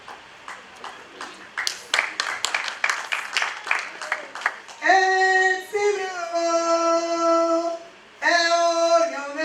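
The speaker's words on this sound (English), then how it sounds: "Clap your hands and appreciate the God of Joseph." A church crusade congregation claps briefly: scattered, sharp hand claps for several seconds, then sustained ringing musical tones take over.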